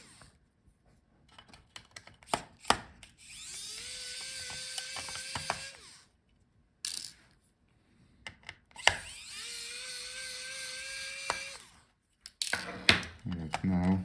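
Screws being unscrewed from a Lenovo IdeaPad 5 15ITL05 laptop during a teardown, with two longer bursts of whirring driver motor and bursts of sharp clicks and ticks, separated by near silence.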